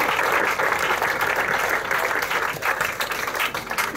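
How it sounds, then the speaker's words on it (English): Applause from an audience at a children's science show in Estonia, a dense, steady patter of many hands clapping throughout, fairly close and loud, with no talking. "Applause one more time."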